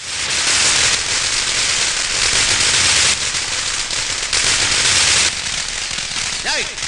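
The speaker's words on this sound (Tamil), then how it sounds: "யார் அவன் பட்டாசு வெடிச்சவன்" A loud, dense burst of firecrackers crackles continuously for several seconds, a rapid string of sharp pops without pause.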